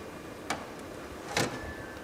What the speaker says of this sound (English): you can just open the door here